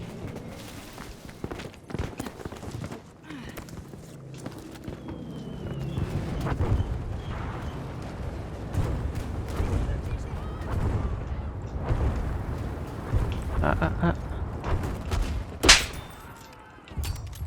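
Rumbling explosions and bursts of gunfire from Battlefield V, dense and continuous, with a sharp loud blast near the end.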